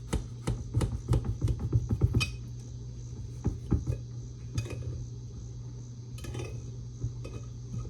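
A knife scrapes and taps against a baking pan while a piece of Hufsie is cut free, giving a run of close metallic clinks and knocks that thin out into a few scattered taps over a steady background hum.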